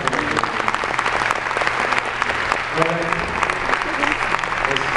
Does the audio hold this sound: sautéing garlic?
no